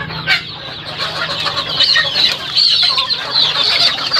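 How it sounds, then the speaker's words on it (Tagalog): Native chickens on a small farm clucking and calling steadily throughout, with sharp bright cackles growing busier in the second half, fairly close and loud. "May mga native chicken tayo dito mga idol oh."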